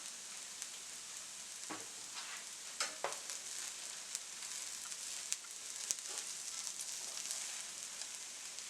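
Rice folded into hot oil for shrimp fried rice gives a steady, soft sizzle and crackle with occasional sharper pops and spatters, moderately close and with no talking.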